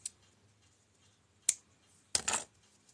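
Scissors snip through a crochet yarn tail: a faint click, then a sharp snip, then a longer crisp double cut, close and quiet in an otherwise silent room.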